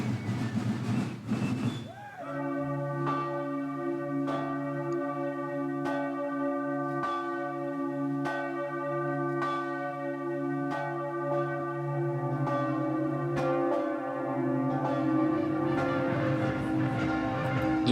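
Church bells ring from a belfry, sounding repeated strikes over a long, steady, humming resonance that lasts the whole stretch, after a short noisy start.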